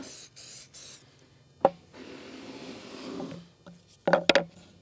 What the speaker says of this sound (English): then I'm gonna spray some TITEBOND on it,